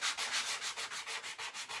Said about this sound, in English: using the sanding block really gives you, first of all, it gives you really smooth paint, but it also gives you that distressed look